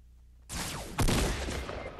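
Gunfire in the battle royale game Fortnite erupts suddenly after a quiet moment, with a burst of close, loud shots followed by a second, heavier blast and ongoing noisy rattle.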